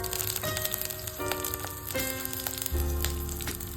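About ten green chilies fry in four teaspoons of oil in a pan for peanut chutney, making a continuous close crackling sizzle with scattered pops, while steady tones run over the top.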